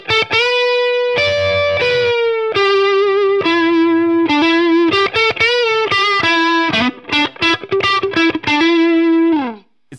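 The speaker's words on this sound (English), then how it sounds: "So I think the neck pickup position might be my favorite sound from the guitar." A Fender electric guitar on the neck pickup plays a sustained melodic line with bends and quick runs, full and clear, loud and close with no talking.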